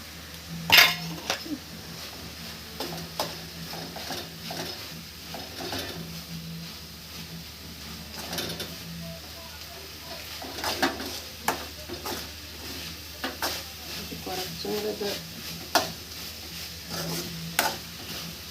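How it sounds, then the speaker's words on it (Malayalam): Ground coconut paste being stirred into a pan of cooking food, with a spoon scraping and clinking against the metal in irregular bursts over a low, steady sizzle, close and fairly quiet. "ഇനി നമുക്ക് അരച്ച് വെച്ച അരപ്പ് നമുക്ക് ഇതിലേക്കിടാം"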